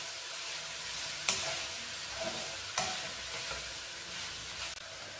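Chicken noodles with baby sweet corn stir-fried in a pan, giving a steady close sizzle with a few sharp clinks of the utensil as it is mixed, no talking.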